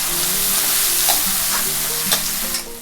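Tomato sizzles steadily in a hot pan while cooking prawn fry, with occasional scrapes and stirring sounds from a utensil.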